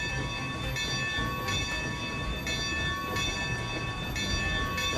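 A steady rumbling Mastodon steam locomotive in the game Railroads Online runs continuously, with a ringing bell tolling repeatedly over the rolling noise.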